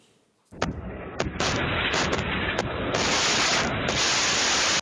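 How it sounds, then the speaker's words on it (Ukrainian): A sudden heavy blast followed by sustained roaring bursts and crackling, loud and continuous, from artillery shelling in the Nikopol district of Dnipropetrovsk region, Ukraine. "Такі вибухи лунають чи не щодня."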